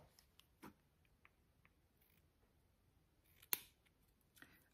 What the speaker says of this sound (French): Mes petits ciseaux, là.